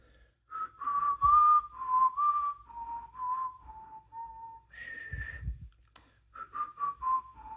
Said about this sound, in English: I'm gonna put myself on the spot and see if I can whistle right now.